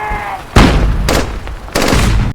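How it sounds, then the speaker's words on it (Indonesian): Gunfire from a Battle of Iwo Jima film scene: three loud, heavy blasts about half a second apart, each with a booming, ringing decay, following a quieter stretch. "tembakan pun dimulai, menandakan pertempuran di front Iwo Jima dimulai"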